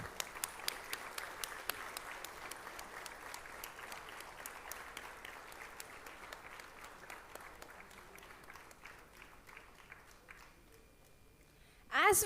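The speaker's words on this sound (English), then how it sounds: "Please give them a huge round of applause." Applause from an audience at an inaugural ceremony, dense clapping that gradually thins and fades over several seconds before a voice briefly starts at the very end.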